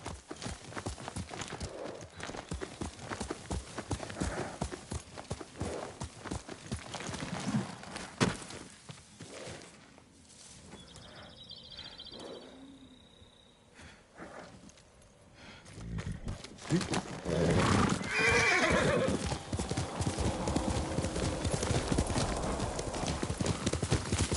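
Horse hooves clip-clop steadily with snorts and a whinny, fading to a quieter stretch before the galloping returns loudly, with game-style ambience throughout, in Ghost of Tsushima.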